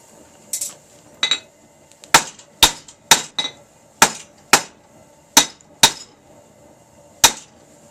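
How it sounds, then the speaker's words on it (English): A hammer strikes hot steel stock on an anvil, squaring it in a backyard blacksmith setup: about a dozen sharp ringing metallic blows in an irregular rhythm with brief pauses, each clang loud and close with a short decaying ring. "hammer the corners to turn it into an octagon, and then round it off."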